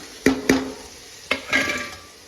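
Onion and green chili sautéing in oil for a Tamil brinjal thokku, with a few sharp spoon scrapes and stirs against the pan over a soft sizzle, close and alone.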